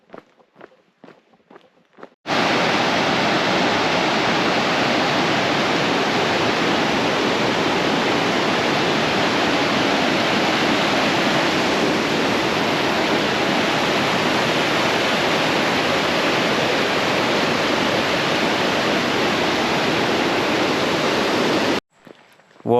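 A waterfall beside a mountain hiking trail in alpine village country roars as a loud, steady broadband rush for about twenty seconds, with footsteps faintly heard before and after.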